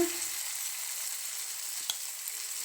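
Thick pumpkin potato pancakes fry in hot sunflower-style oil, giving a steady, even sizzle throughout with a single soft tap near the end; no voices.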